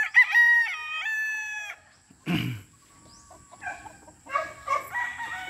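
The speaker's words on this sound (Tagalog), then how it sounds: "So ito pala, isa ko pang brood cock." A gray brood cock crows loudly and near, a long drawn-out call, followed by softer clucks and short calls from fowl.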